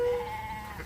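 Sheep bleating on a farm pasture, a single drawn-out bleat heard clearly at moderate distance.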